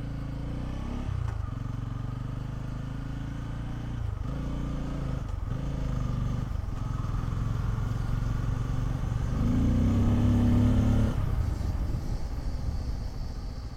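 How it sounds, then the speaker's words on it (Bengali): A 2025 Bajaj Pulsar N250 motorcycle runs steadily during a front brake test, its engine drone and road noise continuous and close, with a few dips and a brief louder whine near the end. "চলুন এবার সামনের ব্রেকটা আমি টেস্ট করে দেখছি"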